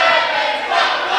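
Wrestling fans at a live match between Devon Moore and Drake Younger roar and chant together in one loud, continuous crowd swell that rises and dips slightly.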